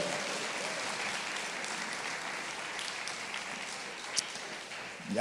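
Congregation at a Spanish-language Sunday church service applauding for God, a continuous dense wash of clapping from a large room, fairly even throughout, with a sharper nearby sound near the end.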